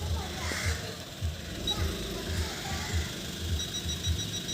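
A car's reverse parking sensor beeps in a steady, evenly spaced series of short pulses during parking practice, while people talk over it.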